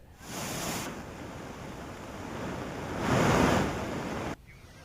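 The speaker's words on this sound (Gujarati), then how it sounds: "અનેક લો લેવલ કોઝવે આવેલા છે તેના પર પાણી ફરી વળ્યા છે" Floodwater rushing over a low-level causeway during continuous heavy rain in Dang, a broad steady roar of flowing water that swells louder for a stretch before cutting off abruptly near the end, with no voices.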